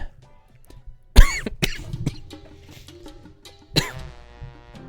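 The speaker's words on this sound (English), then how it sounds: "That was an awful cough." Two sharp, harsh coughs ring out, the first louder, separated by a couple of seconds with quiet rustling in between.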